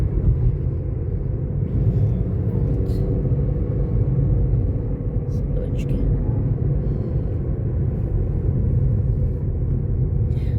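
A car rolls along a bumpy road in Greece on the way to a festival in Edessa, giving a steady, close low rumble from inside the cabin that stays even throughout.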